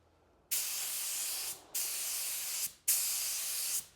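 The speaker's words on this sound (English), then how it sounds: "And you can see it's consistently spraying there nicely now." Iwata LPH80 paint spray gun running at just over 2 bar, firing three sustained bursts of loud airy hiss, each about a second long, cut off by short pauses.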